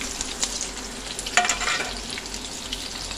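Chopped onion, garlic, chili and tomato sizzle together in a hot pan, a continuous close frying hiss with a brief louder clatter of stirring midway, nobody speaking.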